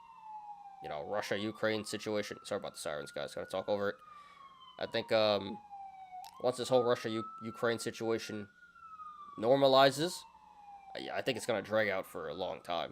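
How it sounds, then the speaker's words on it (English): Emergency vehicle sirens pass outside, wailing in repeated rising and falling sweeps at moderate distance while someone keeps talking over them indoors. "sorry about the sirens, guys, gonna talk over it"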